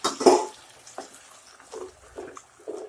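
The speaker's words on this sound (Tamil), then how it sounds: "இப்போ தக்காளி ஊற்றுனது நல்லா கொதிமான வருது" Tomato-based vadakari masala bubbling in a pan, with a few soft, irregular plops and bursts spaced about half a second apart over a low, quiet simmer.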